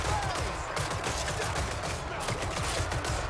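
Hellblaster volley guns and organ guns of a Dwarf army firing in Total War: Warhammer 3, a dense, continuous crackling fusillade of rapid overlapping shots with irregular bursts, loud and sustained throughout.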